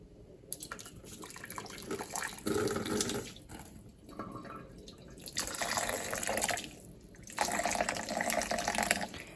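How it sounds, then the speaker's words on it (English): Cooking water from a pot of ramen is poured off into a kitchen sink in several splashing bursts, loud gushes of running water broken by brief pauses and drips. "I'm going to show you about how much water to drain out of this"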